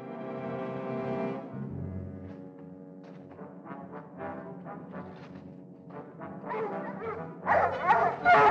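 Dogs bark in a 1950 film noir spy chase, a run of yips and bow-wows rising over sustained musical tones and growing louder and busier toward the end.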